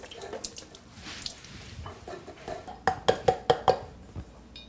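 A kitchen tap runs briefly to dampen a clean towel, a soft wash of water followed by a quick series of clinks from dishes or utensils nearby.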